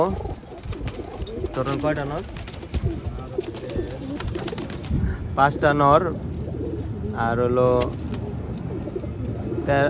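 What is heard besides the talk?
pigeons cooing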